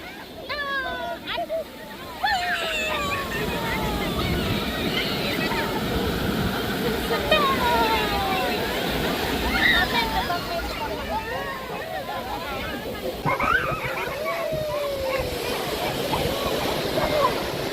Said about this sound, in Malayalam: അങ്ങനെ കുഞ്ഞുസ് ആദ്യമായിട്ട് കടലിൽ ഇറങ്ങി കേട്ടോ.